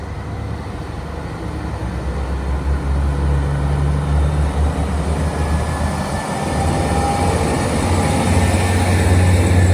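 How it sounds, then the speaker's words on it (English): A train pulls into a station in Northern Ireland with a continuous loud rumble of wheels and carriages, a steady low drone and brief faint squeals of wheels on rail as it rolls steadily through. "another train's just put in, so we're going to go film that as well"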